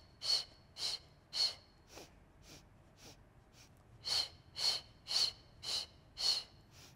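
Sharp rhythmic breaths puffed in and out during the Pilates hundred exercise, about ten short close bursts with a brief quieter pause midway, no talk.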